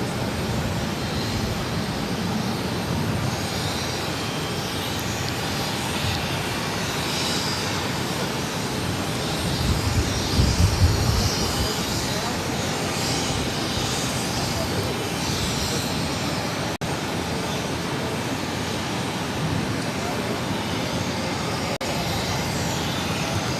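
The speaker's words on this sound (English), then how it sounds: "This is Avianca 445 taking off to San Salvador on the A320 Neo" An Avianca Airbus A320neo jet takes off, its engines a broad, steady roar that holds loud throughout, swelling briefly midway, with distant radio chatter faintly underneath.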